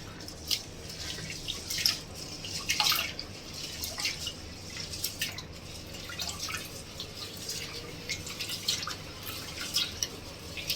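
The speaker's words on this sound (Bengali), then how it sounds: "এবার চাউলটা ধুয়ে নিব ভালো করে কসলায়।" Rice being rinsed in water for khichuri, with steady close trickling, dripping and sloshing, irregular splashes and small clinks throughout, no talking.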